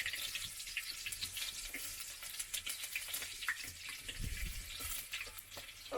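Spring onions fry in a pan with a crackling sizzle, broken by irregular scrapes and clatters of stirring, close and fairly loud with no voices.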